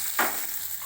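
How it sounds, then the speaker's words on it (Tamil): A brief sizzle and stir as dals, green chillies, onion and curry leaves are sautéed in a pan for wheat rava kichadi, one quick scraping burst over steady frying hiss. "கருவேப்பிலை இது போட்டு அப்படியே வதக்கிக்கலாங்க"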